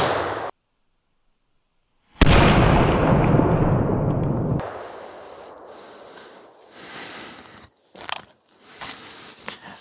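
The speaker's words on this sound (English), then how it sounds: "I'm just going to be taking 3 shots from each hand cannon" A hand cannon fires a 53 caliber round shot into a gambeson: one sharp, loud blast that rings out and decays over a couple of seconds, followed by scattered faint clatter and thuds.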